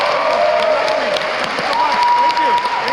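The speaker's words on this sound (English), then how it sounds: "Let's give a warm welcome to Speaker Corey Johnson." Audience at a Green New Deal town hall forum in New York applauding to welcome a speaker, dense clapping and cheering throughout, loud and close, with a voice speaking over it.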